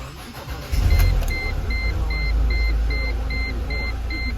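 A 2005 Mercedes C230 Kompressor cranks and fires up after fuel pump and sender replacement, the engine catching and settling into a steady idle while a chime beeps repeatedly in a regular rhythm.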